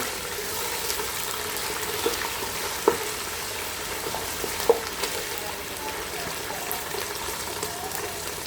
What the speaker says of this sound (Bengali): এখন এগুলো সব একটু তেলে ভেজে নিব।